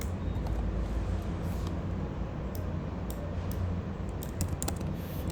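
Keys clack on a computer keyboard in a quiet indoor setting, a quick irregular run of soft clicks over a low background hum, close but fairly faint, as a chmod command is typed.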